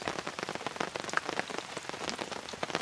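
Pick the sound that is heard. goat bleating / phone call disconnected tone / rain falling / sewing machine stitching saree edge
rain falling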